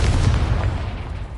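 A Confringo fire spell blast in the video game Hogwarts Legacy, a single deep booming explosion that fades over about a second, loud and heavy in the low end.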